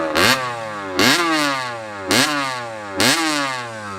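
A 1984 Honda CR60 motorcycle engine revs repeatedly, four sharp rising blips about a second apart, each falling back toward idle, close and fairly loud with no talking.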